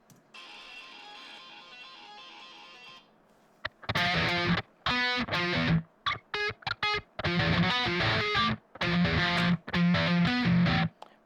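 A distorted electric guitar plays a heavy metal triplet riff. A softer, thinner passage comes first, then loud, chugging bursts hammer out in short rhythmic groups separated by brief gaps.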